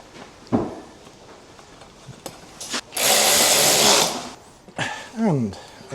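Fastening small bolts on the front mudguard mounting plate of a new bike: scattered clicks and taps, then a loud one-second power-tool whir, then more tapping and a brief rising whine, heard close.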